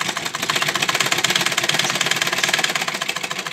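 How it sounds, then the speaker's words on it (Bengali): Sewing machine stitching fabric cut from an old nightie, a fast, even mechanical chatter of the needle running steadily and close throughout. "এই পাশটা তো ঠিক এরকমভাবে সেলাই করে নিতে, এই সেলাই করে নিলাম।"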